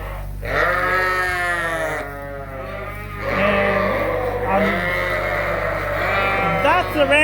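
Sheep bleat repeatedly and loudly close by on a farm during breeding time, as ewes and rams are sorted, with long wavering calls over a steady low hum.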